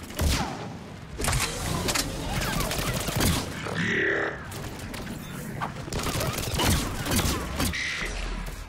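Repeated gunfire bursts from the video game Mass Effect 3, set in a London battle, crack out in quick volleys amid grunts and action noise, with someone talking over the shooting.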